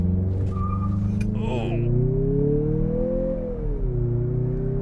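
A turbocharged 2023 Mazda CX-50 with a six-speed automatic accelerates hard from inside the cabin, its engine note rising steadily and then easing as it shifts. Someone talks over it throughout.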